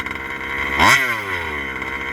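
Rovan 5b RC car with a new carb and clutch, its small petrol engine idling high with a steady buzz that briefly revs up sharply and falls back, close and loud.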